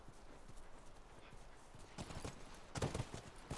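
Rhythmic clip-clop of horse hooves in the video game The Last of Us Remastered, at a ranch house, steady and fairly quiet, growing louder and heavier toward the end.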